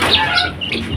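Young AKA and Joper crossbreed chicks, about three weeks old, cluck and chirp close by in a steady, busy stream with overlapping calls and no talk.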